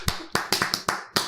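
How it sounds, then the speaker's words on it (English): Hands clapping, six sharp claps in an uneven rhythm, close and fairly loud, with nothing else heard. "Clapping. It's a clapper."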